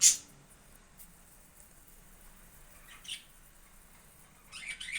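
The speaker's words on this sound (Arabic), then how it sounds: "سمحونا البنات على هاد الصوت ديال هاد الطيور" A few sharp bird squawks and chirps, spaced out over quiet background, one at the start, another mid-way and a cluster at the end.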